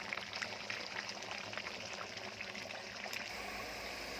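Broiler chicken braising in a pot over a wood-fired stove gives a faint, steady sizzling hiss with small scattered crackles and pops, unbroken throughout with no voices.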